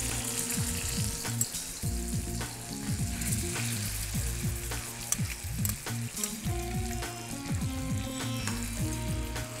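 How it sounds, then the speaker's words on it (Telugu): Ground boiled carrot frying in melted ghee for carrot ragi kheer, a loud steady sizzle close by with frequent stirring scrapes, while a melody plays underneath. "నెయ్యి కరిగిపోయింది ఇందులో మనం ఉడికించి గ్రైండ్ చేసుకున్న క్యారెట్ వేస్తున్నాను"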